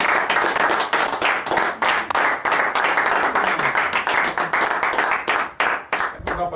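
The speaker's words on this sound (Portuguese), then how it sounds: "Vamos dar um aplauso ao Senhor." Church congregation applauding, dense irregular clapping from many hands sustained loudly throughout, with a few brief dips in intensity.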